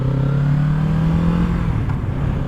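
A 2022 Kawasaki Z650 RS motorcycle engine and exhaust hum close by at a steady mid-rev pitch that eases slightly lower toward the end, with no talking.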